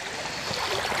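River water flows steadily with a broad, even rush, close by and fairly loud, with no voices over it; the river is fed by gutter outflow.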